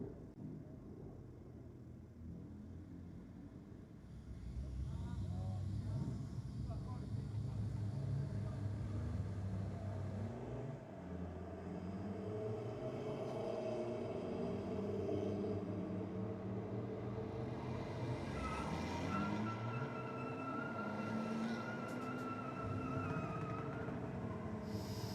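A Toyota Land Cruiser and a Hilux drag race at Sydney Dragway, their engines rumbling and revving as they launch and pull away. The engine roar builds and shifts pitch and is heard from some distance, with faint crowd noise around.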